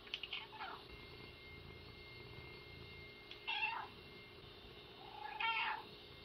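A cat meows three times, each call short and fairly quiet and spaced a couple of seconds apart, heard on its own against a faint background hum.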